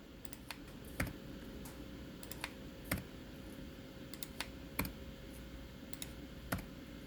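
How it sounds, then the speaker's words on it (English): Sharp, faint clicks of a computer mouse and a key press on a keyboard, sounding singly and in short irregular bursts over a quiet room background, with no talking. "So I'm just clicking on the person's head and I'm pressing enter."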